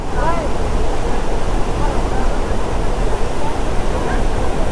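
Dabhosa waterfall near Jawhar, heard as a steady, loud roar of rushing water filling the scene without a break, with a faint trace of other sound over the top.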